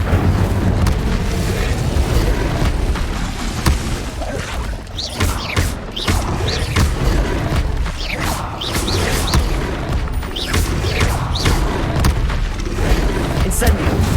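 Repeated Incendio fire spells burst in Hogwarts Legacy amid a loud, continuous roar of booms, crashes and crackling impacts, with sharp bursts scattered across the whole stretch and battle noise layered underneath.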